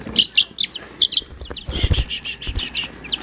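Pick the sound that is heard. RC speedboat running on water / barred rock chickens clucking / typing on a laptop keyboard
barred rock chickens clucking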